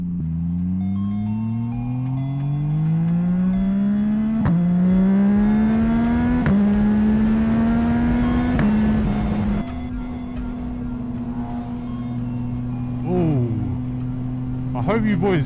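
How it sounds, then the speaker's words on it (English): A Yamaha MT-09 motorcycle with a new exhaust revs up repeatedly with rising pitch, loud and close in a forest, then settles into a steady idle drone. "He got a new exhaust and it actually sounds nice."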